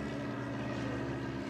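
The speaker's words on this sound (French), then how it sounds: "l'avion de reconnaissance de l'armée américaine qui vient voir si les Allemands sont partis" A US Army propeller reconnaissance airplane from 1943 drones steadily overhead, a loud continuous engine hum with a throbbing low tone and no other sounds.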